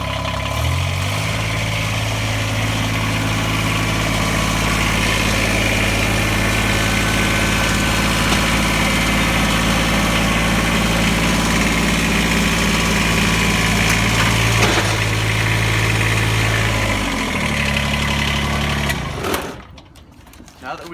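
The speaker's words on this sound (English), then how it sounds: "Start the tractor up." A Kubota BX series compact tractor engine starts and settles into a steady, loud idle with a low droning hum that runs for about eighteen seconds before cutting off.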